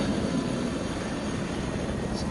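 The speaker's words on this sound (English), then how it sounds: "I can hear a helicopter." A helicopter in the video game The Division gives a steady, droning rotor and engine rumble that holds evenly throughout, moderately loud and without pause.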